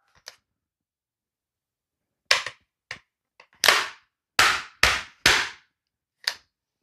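Mechanical metal-on-metal knocks as a rifle magazine is pushed and smacked into the gun without seating: a tiny early click, then a series of sharp, close impacts, several in quick succession, loud in near silence.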